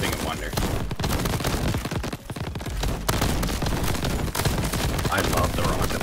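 Rocket launcher in Crab Champions fires fast repeated shots with booming impacts, loud and continuous rapid bursts, while someone talks over the action.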